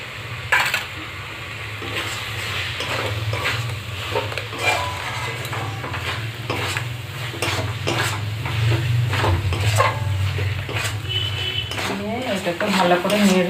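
Chicken with soy sauce is stirred in a pan while making chicken pasta, a spatula scraping and clattering against the metal over a steady low sizzle and hiss throughout.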